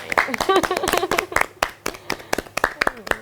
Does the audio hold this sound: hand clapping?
yes